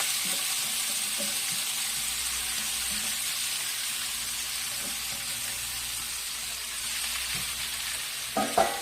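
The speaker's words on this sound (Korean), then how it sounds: "식용유 둘러준 팬에다가 이 된장을 조금 넣고 묻혀뒀던 무시래기를 한번 볶아볼 거예요" Dried radish greens coated in doenjang sizzle steadily in an oiled pan, a constant frying hiss with soft scrapes of stirring and a couple of sharper clatters near the end, no one speaking.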